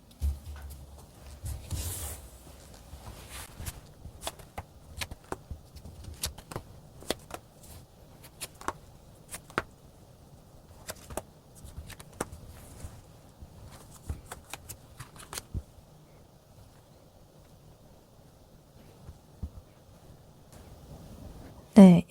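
Tarot cards are shuffled and drawn in soft, scattered taps and slides, close and quiet, with brief louder flicks spread through a mostly hushed stretch.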